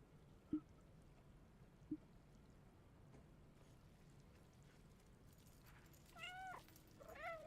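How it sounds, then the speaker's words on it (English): A cat in the video game Stray meows twice near the end, short rising calls over quiet game ambience, preceded earlier by two brief soft clicks. "Just meow incessantly."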